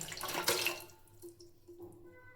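Mutton curry for biriyani pours from a vessel into a saucepan with a short wet splash and slosh that fades into soft dripping.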